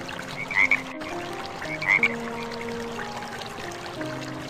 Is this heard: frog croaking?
yes